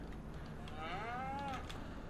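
Cattle mooing in the farming game Farming Simulator 25, a single drawn-out, wavering low moo carried over steady farm ambience, fairly close and alone with no talk.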